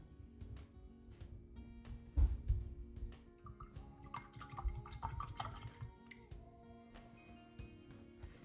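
A paintbrush is swished and rinsed in a water cup, giving soft sloshing and drips with light clinks of the brush against the container, quiet and close.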